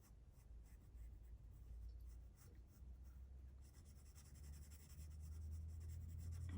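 Pencil scratching on paper while drawing pears, a soft continuous scribbling of short strokes, quiet and close, growing a little denser toward the end, with no talking.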